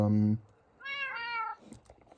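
Cat meows in a video game, one drawn-out harmonic meow in the middle, close and clear, with a short low tone before it and brief clicks after.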